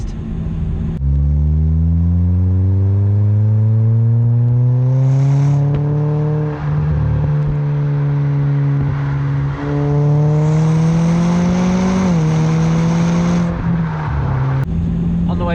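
A Jaguar XE fitted with two custom hand-built exhaust back boxes drives along, its loud engine note rising and falling steadily through the gears, close and continuous with no talk.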